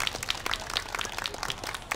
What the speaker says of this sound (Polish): Dykier i wielkie brawa.